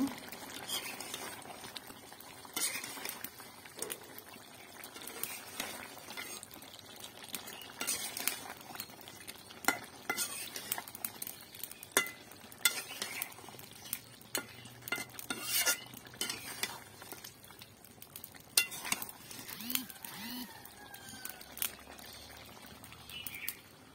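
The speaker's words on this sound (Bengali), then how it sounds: "মাংসটা হচ্ছে ভালোভাবে কষিয়ে নিচ্ছি" Chicken meat sautéing and being stirred in a pot over a clay stove, a faint background of sizzle and bubbling marked by scattered metallic scrapes and clinks of a utensil against the pot.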